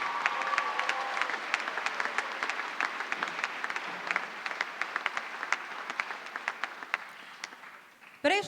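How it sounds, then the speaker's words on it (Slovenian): Big audience applause at a New Year brass band concert, sustained dense clapping that carries on for several seconds before tapering off, with a voice briefly audible at the end. "ampak en velik aplavz za vse skupaj."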